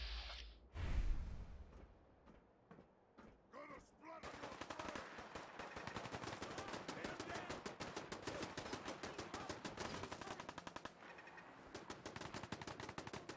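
Rapid automatic turret gunfire in Fallout 4, a sustained stream of dense, evenly spaced shots after a few scattered bangs, loud and continuous with a brief pause near the end.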